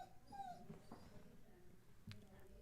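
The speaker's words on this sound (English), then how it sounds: "don't know if you can hear my dog crying" A dog whimpers faintly in the background, with a few soft whiny cries and yips over low room noise.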